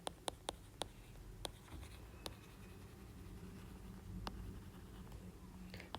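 Pen writing numbers on paper while a math exercise is solved: a faint, steady scratching with a few sharp taps, close and quiet over low background hum.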